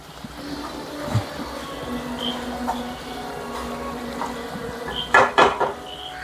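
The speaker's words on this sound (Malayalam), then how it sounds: "നമ്മളൊന്നിങ്ങനെ നന്നായി ഇളക്കി കൊടുക്കുക." Metal spoon scraping and clinking against a pot of boiling fish curry gravy, with a steady simmering background and a few sharp, close clatters toward the end.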